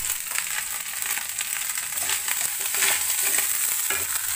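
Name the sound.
leftover rice being stir-fried in a pan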